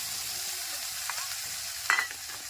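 Ground spices being stirred and fried in hot oil, giving a soft continuous sizzle with a few scraping stirs and one sharper clatter near the end.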